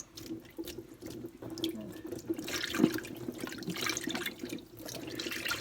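Fiddlehead fern shoots being rinsed in a sink under running tap water, with steady splashing and trickling close by, occasional drips and clinks, and no talking.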